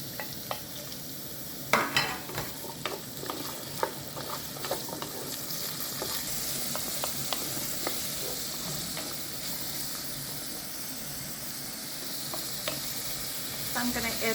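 Chopped onion and carrot fry in a pot for beet soup, giving a steady close sizzle throughout, broken by irregular clicks and scrapes of stirring, heaviest near the two-second mark, with no voices.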